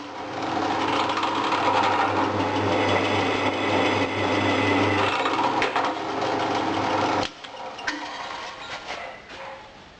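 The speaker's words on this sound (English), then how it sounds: "All you do is just drill a hole and see what the swarf looks like." A drill bores into a piece of scrap cast iron or steel from an old mould, a steady loud whirring grind that runs unbroken for several seconds, then cuts off abruptly and gives way to quieter scraping and rattling.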